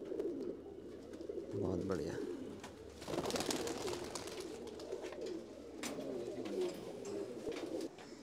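Low, soft pigeon coos repeat throughout, overlapping one another, while people talk nearby and a few brief rustles break in.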